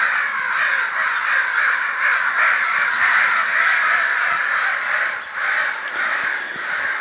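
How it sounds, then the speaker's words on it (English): Crows caw repeatedly and loudly at a state park, their harsh calls overlapping with other birds in a steady, busy outdoor chorus, with no talking. "the birds are out in force today"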